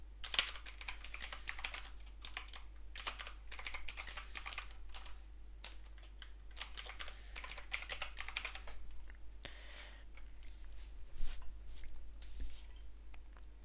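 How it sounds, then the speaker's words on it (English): An administrator password being typed on a computer keyboard, rapid close clicking keystrokes in uneven bursts over a steady low electrical hum. "now we need to type your administrator password."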